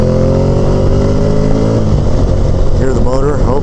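A motorcycle engine runs loudly and close, a steady low rumble that shifts pitch partway through as if changing speed, with wind noise over it.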